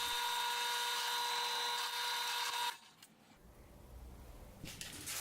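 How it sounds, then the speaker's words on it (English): A countersink bit whines at high pitch as it chamfers drilled holes for a mirrorless camera helmet mount, running steadily for a few seconds before cutting off, followed by faint handling clatter. "using the countersink bit to clean up all these holes I drilled"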